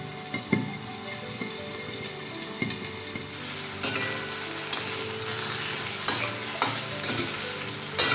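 Potatoes fry in a pan with a steady sizzle, while a spoon stirs and scrapes them in repeated knocks and scrapes, close and fairly loud.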